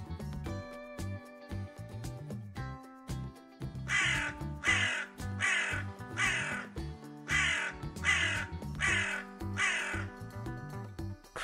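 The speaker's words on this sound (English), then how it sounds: "Crow." A crow caws repeatedly in a steady series of harsh, evenly spaced calls, clear and close, over a light music background.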